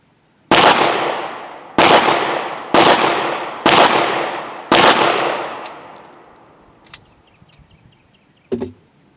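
Five loud, evenly spaced gunshots from the video game Aphotic Wolf, each with a long decaying reverb tail, followed by quieter clicks and one short final rattle.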